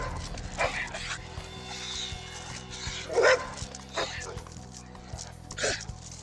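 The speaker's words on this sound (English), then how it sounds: "Gosh, there's another dog in the distance." A dog barks and yips in the distance during a bull terrier training session, several short sharp calls scattered over a steady background while people talk.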